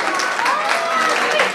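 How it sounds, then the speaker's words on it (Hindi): Audience applause at a staged devotional drama during a Jain Siddhachakra Mahamandal Vidhan ceremony: a steady, dense wash of many hands clapping that fills the whole moment, with a voice faintly audible through it. "एक बार तालियां तो बजा दो इस इंद्र के लिए।"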